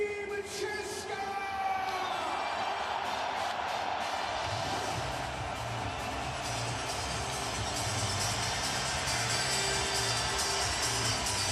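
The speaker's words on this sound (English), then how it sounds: "Team Czechia takes to the ice in front of a raucous crowd here in Prague" Raucous crowd filling a Prague ice hockey arena at the 2024 IIHF World Championship as Team Czechia takes the ice, a dense sustained roar with cheering and horn-like tones, swelling louder after a few seconds.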